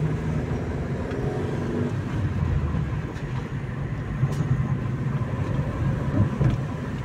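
A vehicle driving along, its steady low engine and road rumble constant throughout from inside the cabin, with faint rattles and no talking.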